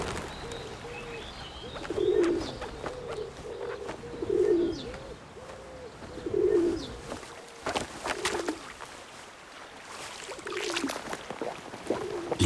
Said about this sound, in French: Les pigeons sont grégaires.